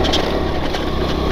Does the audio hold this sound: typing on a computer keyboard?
no